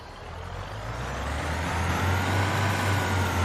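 A diesel train engine in the game Train Sim World 5 on the Cardiff City Network throttling up through the notches, a low steady rumble that grows louder and deeper as the power builds.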